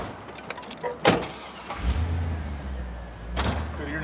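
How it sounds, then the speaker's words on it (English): A 1971 Pontiac Le Mans, with a door slamming near the start and then a low engine rumble building up and idling loudly close by, with another thump later on. "This is a 71 Pontiac Le Mans."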